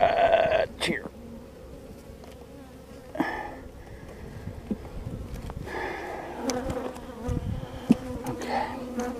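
Honeybees hum around an open hive, a close, continuous buzzing drone with individual bees swelling louder as they fly past, and handling noises mixed in.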